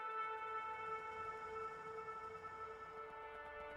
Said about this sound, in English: let's not get killed by a train